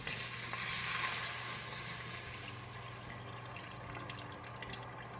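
Beef juices and fat bubble in a pan, making a steady, close sizzle and gentle simmering hiss with faint stirring, loudest early on and then settling a little quieter, with no talking.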